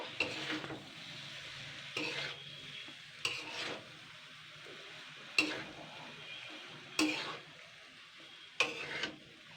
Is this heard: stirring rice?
yes